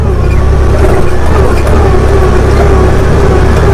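A 2019 Honda Pioneer 1000 side-by-side climbs uphill over whoops in soft sugar sand at about 30 mph, its engine drone and wind roar steady, loud and close throughout.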